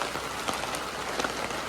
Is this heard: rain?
yes